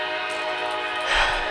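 A Norfolk Southern L11 freight train leaving Bellevue, Ohio, with a GoRail locomotive leading, sounds a sustained, fairly close horn tone, while a low rumble swells briefly near the end.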